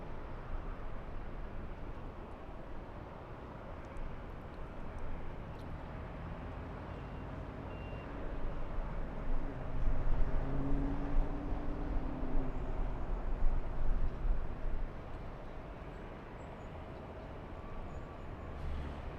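An airliner takes off at a busy airport, heard as a broad, distant jet roar with deep rumble that swells steadily in the middle stretch, then eases back to a constant wash of noise, with no voices.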